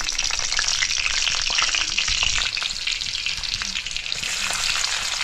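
Garlic and chili frying in hot oil for a fish curry, a dense close sizzle with light crackling and a few stirring scrapes, steady and loud throughout, no voices.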